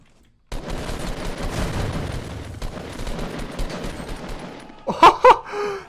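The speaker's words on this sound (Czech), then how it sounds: "Ohoho, tak tohle byla střela, ty jo." Sustained video game gunfire rattles for several seconds, loud and dense, ending with a couple of sharper, louder shots.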